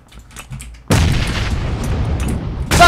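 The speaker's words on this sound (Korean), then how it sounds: "수류탄 간다 저 새끼들" A grenade detonates in PlayerUnknown's Battlegrounds: after a short stretch of quiet game ambience, a sudden loud, close blast erupts and rumbles on for nearly two seconds, followed by a second sharp burst at the end.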